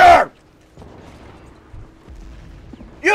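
Mortar fire in the war strategy game Men of War: Assault Squad 2: two loud, sharp booming blasts, one at the start and one at the end, with faint low rumbling between them.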